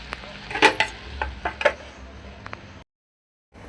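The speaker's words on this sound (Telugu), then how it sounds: "టమాటాలు వేసిన తర్వాత కలుపుకోవాలి." A spoon stirs tomatoes in a cooking pan, giving a handful of sharp metallic clinks and scrapes against the pan, close and fairly quiet, before the sound cuts to silence near the end.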